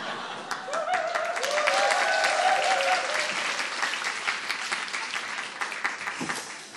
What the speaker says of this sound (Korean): 한번 박수 쳐보세요